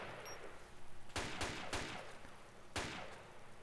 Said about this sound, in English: Return some fire, as does the rest of the squad.